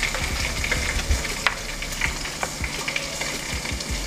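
Ginger and onion frying in a pan for curry pakora tarka, a steady close sizzle with scattered pops and crackles and occasional stirring clatter, no voices.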